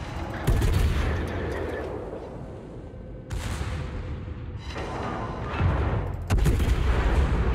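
Naval guns fire in World of Warships, heavy booming salvos landing in several distinct bursts, each followed by a lingering rumbling roar, loud and close, with no voices.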